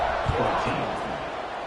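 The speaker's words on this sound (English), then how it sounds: "this crowd is buzzing after that last score" A dense football stadium crowd keeps up a steady, loud roar and buzz after a score, filling the space evenly with no single voice standing out.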